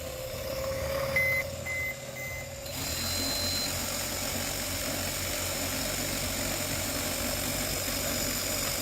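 The small electric motor of an Xmods RC Dodge Ram truck runs at a steady, close whine, with a faint high-pitched tone and a slight shift in the first few seconds before settling into a constant hum.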